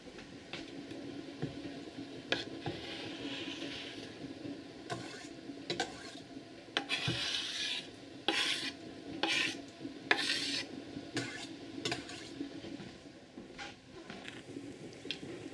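Minced jalapeños being stirred into a peach and tomato salsa, with repeated scraping and stirring strokes against the pot and a faint sizzle underneath, close and fairly quiet.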